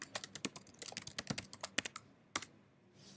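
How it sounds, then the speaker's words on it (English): Short burst of typing on a computer keyboard while a name is entered into a chat application, a quick irregular run of close, crisp key clicks with a brief pause and a couple of final taps. "I can type in my name and say, hey, this actually worked."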